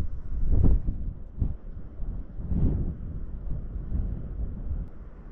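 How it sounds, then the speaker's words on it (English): High wind buffets a DJI Avata drone in flight, heavy low rumbling gusts swelling and fading close to the microphone, with no voices. "Damn, it is windy."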